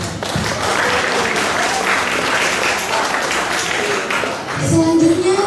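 Audience in a school hall applauds two student authors at a book discussion event, a dense steady round of clapping with a voice rising near the end.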